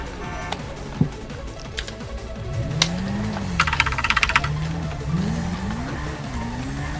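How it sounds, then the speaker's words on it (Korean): Rapid keyboard clicks patter in a short burst over the constant roar and whine of motorbike engines in a GTA 5 Online race, with scattered sharper clicks before. "너 키보드 소리 겁나 크다, 저거."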